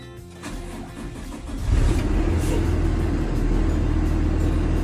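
A school bus engine cranks and starts during a CDL pre-trip inspection in Ohio, with starter whine giving way to a deep, steady idle rumble that holds loud and near.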